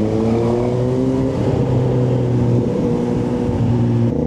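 Kawasaki Z H2 motorcycle accelerating to overtake on a road busy with trucks and tricycles, a loud steady engine drone with rising and shifting pitch, heard close up and continuous, with wind rush and no talk.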